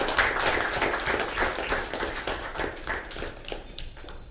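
A Toastmasters meeting audience gives a round of applause, a modest, close-sounding patter of clapping from a small group that tapers off after a few seconds.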